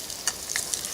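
Salo, pork fat, frying in a pan outdoors gives a soft, steady crackling sizzle with a few faint pops, low and close throughout.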